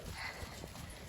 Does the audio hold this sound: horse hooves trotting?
yes